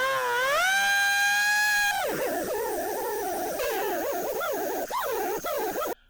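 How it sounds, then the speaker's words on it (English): A grinder cuts a groove into the shell of a seized Ohlins DFV coilover from an NC Miata. A steady, high whine rises as it spins up, then wavers and bites unevenly against the metal, loud and close throughout. "I'm going to grind a groove in the shell right there and on both sides"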